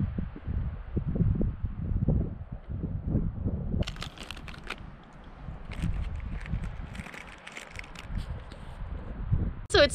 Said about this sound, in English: So it's super windy.